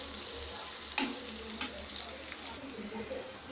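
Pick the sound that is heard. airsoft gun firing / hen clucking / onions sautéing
onions sautéing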